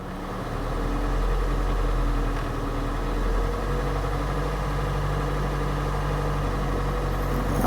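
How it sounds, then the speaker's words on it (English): Kia engine held at a raised speed of about 1400 to 1500 RPM during a recall procedure, a steady, even engine drone heard up close with no voices. "I am going to bring this up to 14 to 1500 RPMs."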